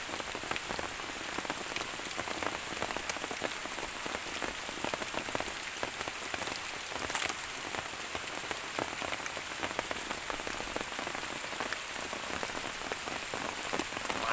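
Steady, heavy rain pours down continuously while termite mushrooms are dug up outdoors. The hiss of drops hitting surfaces is dense and even, with no voices.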